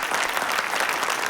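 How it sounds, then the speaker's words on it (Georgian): An audience breaks into steady, loud applause, many hands clapping together at close range without a pause for the brief moment. "აპლოდისმენტები"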